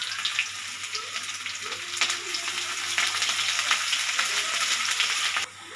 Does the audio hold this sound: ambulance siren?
no